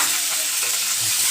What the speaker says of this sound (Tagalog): Ibutan na rin nato ang sibuyas.